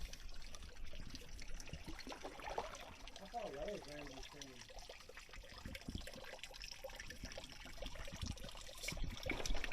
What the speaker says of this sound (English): Straight up spring water from Ramsey Springs.